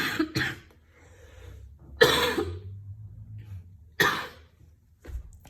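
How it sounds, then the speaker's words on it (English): Several separate coughs from one person, close and moderately loud, spaced roughly every two seconds, with quiet breathing in the gaps. "And notice I start coughing"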